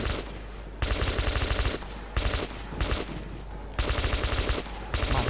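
Loud automatic gunfire in Metro 2033, fired in four rapid bursts of about a second each, separated by brief pauses.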